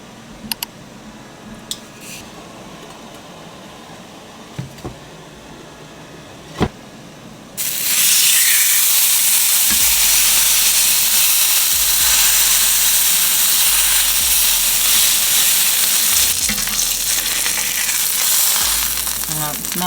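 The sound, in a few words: steak searing in a pan on high heat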